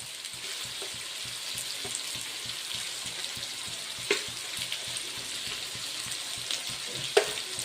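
Ground coriander and chili powder fry in oil in a pan for a Chettinad pirandai kuzhambu, giving a steady close sizzle with occasional faint clicks and scrapes.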